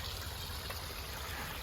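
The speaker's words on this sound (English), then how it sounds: "then we added a little waterfall right there," Water from a small garden waterfall trickles steadily into a pool, a continuous, even splashing wash heard up close with no voices.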